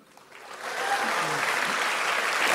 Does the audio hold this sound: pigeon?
no